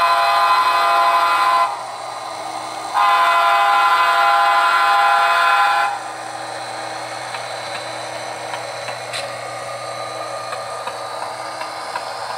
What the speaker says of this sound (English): we got a honk for the vagrants down here under the bridge.